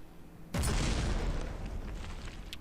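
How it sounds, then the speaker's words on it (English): High-explosive cannon shell exploding in the video game From The Depths, a sudden loud boom that rolls and decays over about two seconds, with a faint crackle near the end. "The explosion happened before."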